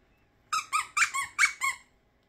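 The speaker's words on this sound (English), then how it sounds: "A really cool squeaky toy." Squeaky plush dog toy squeezed five times in a quick rhythm, each squeak short, high and close, in an otherwise quiet room.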